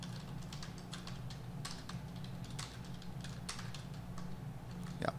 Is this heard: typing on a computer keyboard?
yes